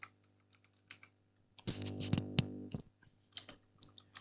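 Typing on a computer keyboard to enter an IP address, a quiet scattering of isolated key clicks followed by a louder, faster run of keystrokes, then more sparse taps, with no voices.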